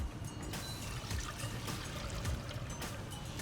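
Milk flavoured with vanilla poured into a pan for a Vendée-style flan, a steady close splashing pour running continuously for a few seconds with no talk.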